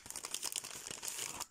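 A small plastic bag holding AliExpress stickers crinkles and rustles as it is opened, with quick, close, quiet crackling bursts running continuously for a moment and no speech.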